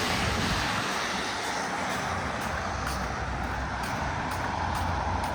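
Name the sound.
YRT bus passing on a wet road in the rain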